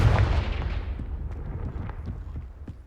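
A Confringo fire spell blast in Hogwarts Legacy, a loud booming explosion at the start that rumbles and crackles as it fades, scattered pops trailing off over a few seconds.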